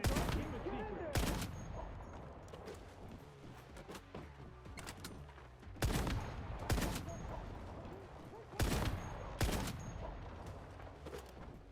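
.50 caliber gunfire in the video game Once Human, heard as loud clustered bursts of heavy shots repeating every few seconds over rumbling background noise, with some faint voice-like sounds between the volleys.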